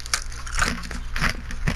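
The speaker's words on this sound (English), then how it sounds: "If you hear me chewing on something, I'm just eating chips." Potato chips crunched close to a microphone, several sharp crackling bites and chews in quick irregular succession, loud and dry with no talk.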